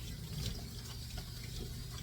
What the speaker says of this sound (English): So here I'm going to give a first rinse.